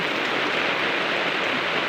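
Heavy rain falls in a steady, dense hiss with no breaks, close and even throughout.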